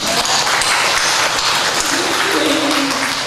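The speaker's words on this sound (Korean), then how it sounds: "우리 박수 한번 치자." A church congregation at a Sunday service breaks into sustained, dense applause that fills the room evenly for several seconds.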